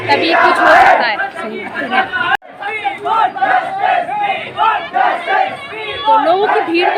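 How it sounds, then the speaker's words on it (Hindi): Large protest crowd gathered in Bironkhal demanding justice in the Ankita murder case, dense overlapping chatter and raised shouting voices close by, one brief loud burst early on. "तो लोगों की भीड़ को देख के आप लग सकता हो कितनी सारी भीड़ जमा हो रखी है यहाँ पे।"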